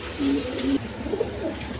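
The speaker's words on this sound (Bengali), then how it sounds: "এখানে এক পেয়ার রেসার কবুতর আছে, দেখেন" A pair of racing pigeons coo close by in soft, low, rolling calls that come and go over a steady background hum at a pigeon seller's, with no talking.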